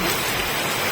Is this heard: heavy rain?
yes